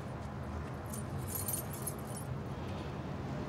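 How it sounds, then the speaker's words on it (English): A husband's set of keys jingles in a soft, scattered metallic clinking, with brief bright rattles in the middle, heard faintly over a low room hum. "Your husband's keys."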